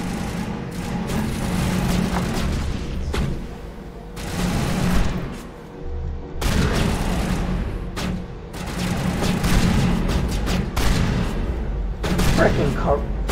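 Gunfire in Mass Effect 1 on Insanity difficulty, a steady stream of shots and bursts against a dense combat backdrop, with a voice speaking briefly over the fighting.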